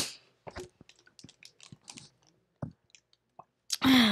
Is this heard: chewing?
yes